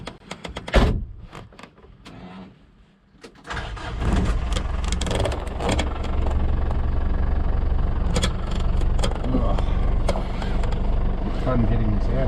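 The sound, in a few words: 6x6 Perentie ambulance driving on a test drive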